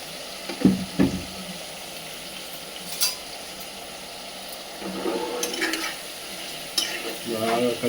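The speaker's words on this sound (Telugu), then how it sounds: "బాగా కలిసేటట్టు మిక్స్ చేసుకోవాలి." Chicken curry being stirred and fried in a pan, a low steady sizzle broken by scraping spoon strokes in short bursts near the start and again toward the end, close and moderately loud with no talking.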